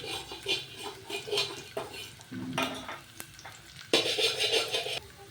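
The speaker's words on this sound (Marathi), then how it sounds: "तर झाला माझा इथं कांदा आणि लसण भाजून" Onion and garlic frying in oil while being stirred in a pan for a greens curry, steady close sizzle broken by bursts of scraping and clinking of a utensil against the pan, no talking.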